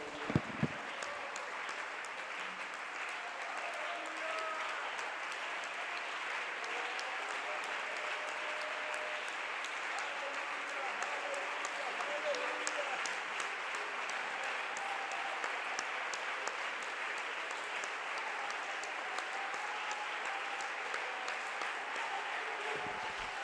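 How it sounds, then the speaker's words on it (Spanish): A standing church congregation claps loudly in praise, a long, even roar of many hands applauding without pause, with faint voices and musical tones threaded underneath. "¿Qué tal si puestos de pie le damos todos un aplauso bien fuerte al Señor?"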